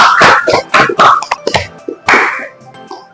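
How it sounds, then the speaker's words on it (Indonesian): A small group clapping hands in short separate bursts, sharp close slaps with quiet gaps between them, in a classroom setting. "Tepuk tangan."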